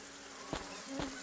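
Wasps buzz in the PC adventure game Jack Keane as they hover around a poorly rinsed cereal bowl, a faint, steady drone with two slightly louder swells.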